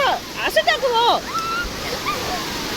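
Big sea waves roll onto the beach at Murudeshwar in Karnataka, a steady broad wash of surf running underneath close, excited voices of people talking and calling out.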